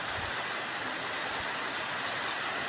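Heavy rain falls outdoors near a pigeon loft, a steady, dense hiss of drops with no breaks and no voices.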